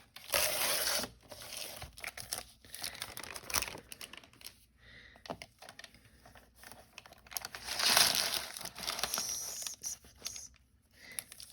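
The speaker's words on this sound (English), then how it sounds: "I know this paper is crinkly and it makes a lot of noise." Crinkly faux glassine paper is handled and cut into strips for making packaging bags, giving dense close crackling and rustling with bursts of louder crinkles.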